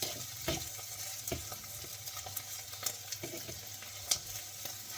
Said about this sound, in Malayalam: അതിൻ്റെ കൂടെ തന്നെ പച്ചമുളക്, വെളുത്തുള്ളി, ഇഞ്ചി, ഇതെല്ലാം ഞാൻ ഇതിൻ്റെ കൂടെ ചേർത്ത് കൊടുത്തിട്ടുണ്ട്. നന്നായിട്ട് ഇങ്ങനെ ഇളക്കി കൊടുക്കുകയാണ്.